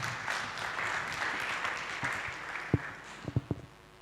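An audience at a forestry and timber business showcase applauds after a presentation, a moderate wash of clapping that thins out into a few isolated, close, sharp claps at the end.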